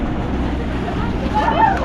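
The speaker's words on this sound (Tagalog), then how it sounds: "Ito yung alon na yan ay gawa nung speedboat." Wake from a passing speedboat slaps against a tour boat on open water near Coron, Palawan, a short burst of sloshing and splashing over a low engine hum, with a voice heard briefly.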